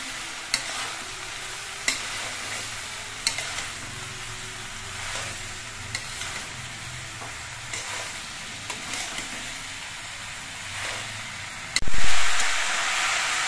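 Chopped bottle gourd frying in oil as a spoon stirs it, a steady sizzle cut by sharp scraping knocks against the pan every second or so, ending in a louder burst of steam and hiss.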